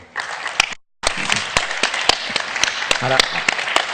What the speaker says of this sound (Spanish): darle un aplauso muy fuerte